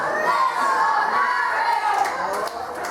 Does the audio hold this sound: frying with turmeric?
no